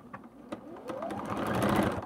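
A sewing machine stitches a seam on a quilt-as-you-go zipper pouch, starting with a few short bursts and then building into a steady, close running hum that grows louder.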